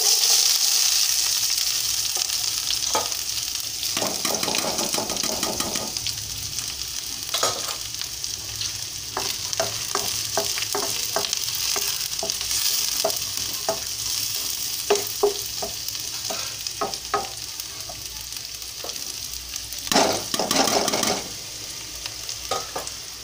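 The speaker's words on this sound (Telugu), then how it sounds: "ఆనియన్ వేగుతూ ఉంటాయండి" Sliced onions fry in hot oil in a pan, a steady sizzle broken by repeated scraping and clacking strokes of a stirring spoon, close by and with no talking.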